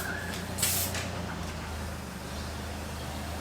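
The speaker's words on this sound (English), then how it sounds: "it's going to pump my tyres up" An on-board air compressor installed in a Toyota Prado 150 runs on a beach while pumping up the car's tyres. It makes a steady low mechanical hum, with a brief hissing burst of air early on.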